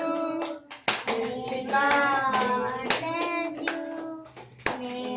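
Hands clap in irregular sharp bursts while a birthday song is sung nearby, the claps close and crisp against the melodic voices.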